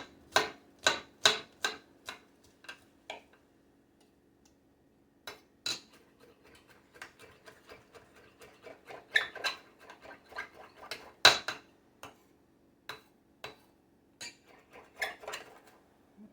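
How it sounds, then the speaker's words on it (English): A knife finely chops food on a cutting board in a home kitchen, crisp close knocks in quick clusters and irregular bursts with short pauses between them, heard alone. "And then we finely chop."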